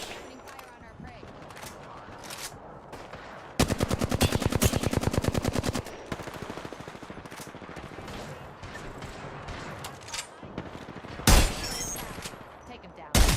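Automatic gunfire from the video game Apex Legends rattles in a fast, loud burst for a couple of seconds mid-clip, with a shorter sharp burst near the end amid softer game sounds.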